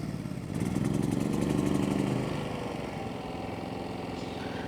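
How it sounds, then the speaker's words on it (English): A Westinghouse iGen4500 inverter generator starts by remote, its engine catching and running loudly for a couple of seconds, then easing back to a steadier idle hum. "In order to start the Westinghouse with the remote, you just hit the on button once."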